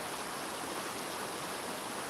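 A river rushes steadily, a dense, even roar of flowing water close by with no voices over it.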